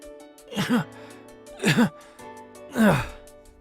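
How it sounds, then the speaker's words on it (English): Three bouts of heavy, strained breathing during muscle training, each a voiced gasping exhale about a second apart, close and fairly quiet with a faint hum beneath. "Such heavy breathing."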